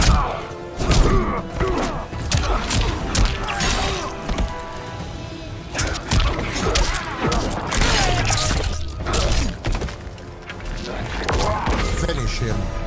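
Rapid hits, thuds and smashing impacts from a Mortal Kombat 11 fight between Noob Saibot and Nightwolf, loud and dense throughout, with grunts and announcer-style voice over the blows.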